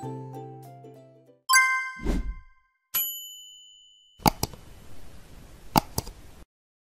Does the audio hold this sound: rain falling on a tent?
no